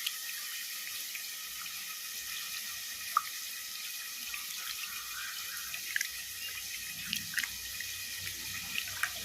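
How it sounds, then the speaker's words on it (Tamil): Tamarind is squeezed and dissolved in water by hand in a home kitchen, faint wet squelching and soft liquid splashes with a few small drips, quiet and close, without speech. "இப்போ வந்து புளியை நம்ம கரைச்சிக்கலாம்."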